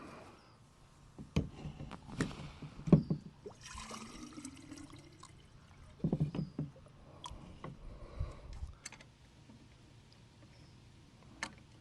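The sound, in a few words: water pump being primed for garden sprinkler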